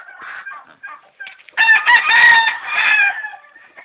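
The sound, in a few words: roosters crowing, round head white leg broodcocks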